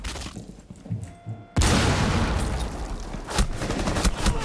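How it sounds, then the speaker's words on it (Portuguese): Rapid gunfire in a Rainbow Six Siege ranked match: a sudden loud burst of shots breaks out after a quieter stretch and keeps going as dense, continuous firing, with sharper cracks standing out near the end. "Eu não vi nem de onde tô levando tiro,"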